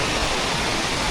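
A waterfall in northern Laos gives a loud, dense, unbroken rush of falling water that stays constant and close, with no voices heard.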